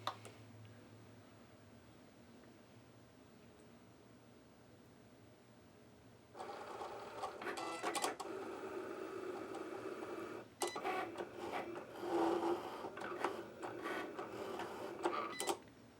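A Cricut Explore cutting machine works through black cardstock, first a low, quiet hum and then a louder whirring drone with rhythmic carriage movements and short stops and restarts, with no voices.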